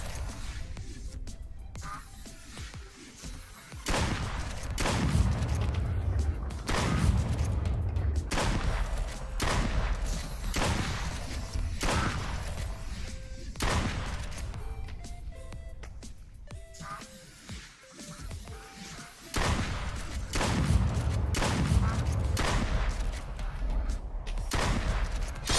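Rapid bursts of video-game gunfire from Duck Season crack repeatedly over about twenty-five seconds, loud and dense with brief lulls, while a faint voice talks now and then underneath.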